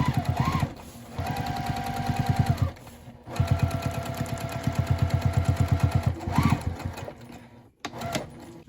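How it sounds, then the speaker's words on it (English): A sewing machine top stitches a quarter inch beside the side seam of a memory bag, running in fast rhythmic bursts of needle clatter with brief pauses between runs. "Now I'm just going to top stitch a 1/4 inch on each side of the side seam"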